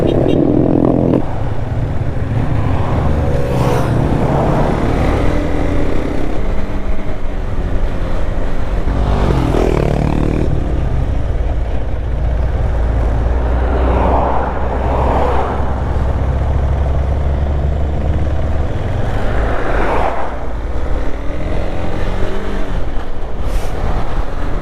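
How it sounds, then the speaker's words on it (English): Heavy road traffic heard from a motorbike ride in southern Ecuador: a steady, loud roar of engines and passing vehicles, with revving swells and louder passes recurring throughout. "the traffic is just so heavy and so annoying"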